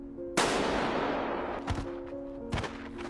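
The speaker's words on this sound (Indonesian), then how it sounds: "Namun tanpa diduga terdengar suara tembakan." A single gunshot in Squid Game episode 1 cracks out loud and sharp, then decays over a low droning tone, followed by two fainter thudding impacts.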